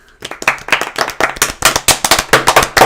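Sharp, loud hand claps ring out in a quick, slightly uneven rhythm, close by, several people clapping together.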